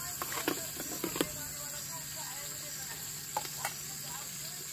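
Onion fries in a pan with whole spices such as cinnamon, cardamom, bay leaf, pepper, cloves and star anise, giving a soft steady sizzle with a few faint clicks and stirring taps, moderately close.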